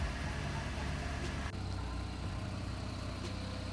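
A Volkswagen Golf's engine runs steadily at close range as the car sets off, with a continuous low rumble and a brief dip partway through.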